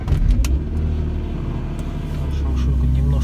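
A 2001 BMW E39 with a 3-litre petrol engine cold-starts at -40°C, cranking briefly then settling into a steady low idle rumble, heard close and loud throughout.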